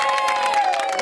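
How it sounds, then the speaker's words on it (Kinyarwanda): A crowd at a community gathering claps and cheers briefly, a loud dense mix of hand claps and raised voices. "nawe mumuhereza amashyi menshi."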